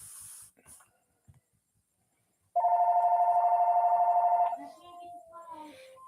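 A phone ringing with a loud, steady electronic warble that lasts about two seconds, then cuts off into brief tonal beeps and faint voices.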